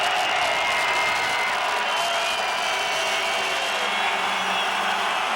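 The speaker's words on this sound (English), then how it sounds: "But the crowd turned it up." Stadium crowd at a Montreal CFL football game roars in a steady, loud, broad wash of cheering and noise, sustained throughout without pause.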